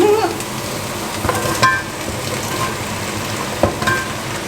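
Lamb and potatoes fry in curry paste in a pan, a steady close sizzle with occasional stirring clatter and scrapes, and no talk over it.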